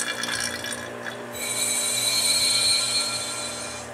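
Vacuum pump on a laboratory glove box runs steadily, a loud constant mechanical drone with high whining tones that swells slightly partway through, with no one talking over it.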